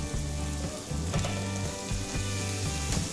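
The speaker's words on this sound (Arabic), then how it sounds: "وهلأ أول ما البصل يلين معنا راح نضيف معلقة ثوم" Garlic sizzling as it is added to softened onions frying in a pan, a steady close crackle and hiss with a few soft stirring scrapes.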